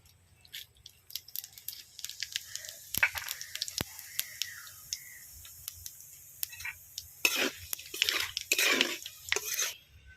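Whole bay leaf, dried chilli and cumin are dropped into hot oil, giving sparse close clicks and crackles that swell into bursts of sizzling pops near the end.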